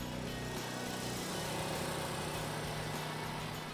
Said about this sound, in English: The Tank ZR1 is designed to mow challenging landscapes.